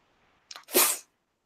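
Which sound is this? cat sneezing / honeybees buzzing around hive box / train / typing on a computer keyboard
cat sneezing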